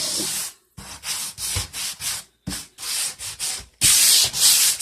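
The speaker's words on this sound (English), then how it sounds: "And I'm just going to light sand over the top." Light hand sanding over the top of a wooden cabinet door, a run of close, raspy back-and-forth strokes in quick rhythmic bursts separated by brief pauses, the last few strokes louder and longer.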